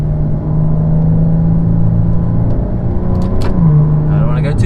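A 2017 Maserati Quattroporte sedan accelerating through the gears, its engine a loud steady drone that drops in pitch at an upshift partway through, heard from inside the car with no talk over it.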